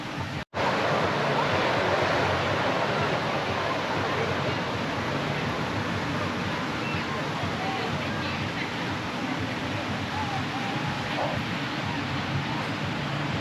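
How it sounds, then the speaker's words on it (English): Ocean waves roll in at a Queensland beach at sunset, a continuous broadband wash of surf with steady wind noise on the microphone, loud and close, after a brief dropout at the start. "The waves are slowly coming in."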